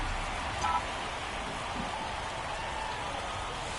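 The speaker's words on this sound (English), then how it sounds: "This rain is not letting up." Steady rain falls at a baseball video game's night ballpark, a soft, even hiss of drops that stays faint and constant throughout.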